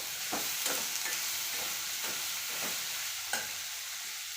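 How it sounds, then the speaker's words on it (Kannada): Onion and brinjal frying in a pan, a steady close sizzle broken by a spatula scraping and stirring about every half second, with no voices. "ಸ್ವಲ್ಪ ಪ್ರಮಾಣದಾಗ ಉಳ್ಳಾಗಡ್ಡಿನ ಇದ್ರಾಗನ ಬೇಯಿಸ್ಕೊತೀನಿ"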